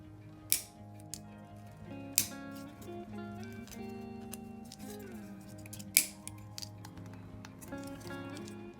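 Plastic sprue and part walls for the nose wheel bay of a 1/48 Trumpeter F-100D Super Sabre kit being cut: three sharp, close snips spaced several seconds apart, with faint tonal music underneath.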